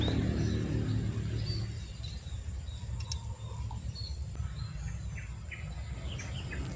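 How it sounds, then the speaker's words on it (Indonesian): Faint bird chirps ring out at intervals near murky water, sitting thinly over a constant low rumble and noise. "Suara burung itu burung apa ya guys kira-kira ini?"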